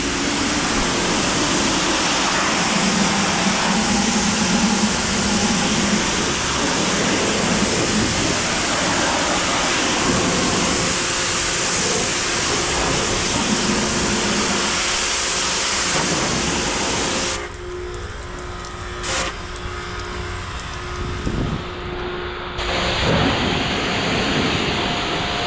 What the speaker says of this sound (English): the reveal with the pressure washer